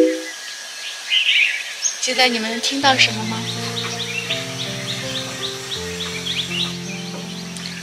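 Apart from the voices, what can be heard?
birds singing near mountain terrace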